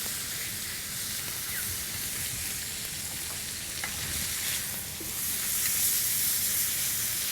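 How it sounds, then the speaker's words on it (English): A bone-in ribeye steak sears in a hot cast iron skillet, giving a steady, dense sizzle and crackle with faint spits and pops, close and continuous with no talking. "I'm going to sear it on the other side for about 2 more minutes"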